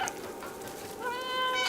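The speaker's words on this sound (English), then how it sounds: "There's a meow button." A cat's meow in the video game Stray, a short, clear, mid-pitched call rising near the end of a brief moment over faint background ambience.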